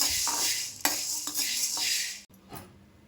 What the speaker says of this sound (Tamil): லோ ஃப்ளேம்லேயே வச்சு வறுக்கணும். ஒரு 5 நிமிஷம் நல்லா வறுத்தா போதும்.